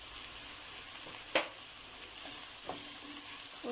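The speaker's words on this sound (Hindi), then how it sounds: "लौकी को फ्राई करने के साथ साथ इसमें बारीक कटा हुआ लहसुन अदरक ऐड करेंगे" Bottle gourd fries with finely chopped garlic and ginger in a pan, giving a soft, steady sizzle with an occasional sharp clink of stirring, faint and without talk.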